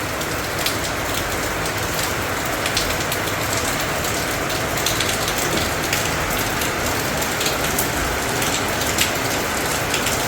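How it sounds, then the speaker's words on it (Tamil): Steady, heavy rain falls continuously near a home kitchen, a dense even hiss with faint scattered drop taps throughout and no voices. "மழை பெய்ய ஆரம்பிச்சிச்சுமா?"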